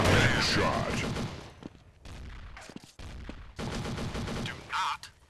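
P90 fire in Counter Strike arrives in loud, dense bursts separated by short pauses, with a voice heard between the volleys.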